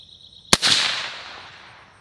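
A single sharp rifle shot from a short 11.5-inch 5.56 barrel firing Hornady .223 ammunition, loud and close, with a long echoing decay rolling away outdoors.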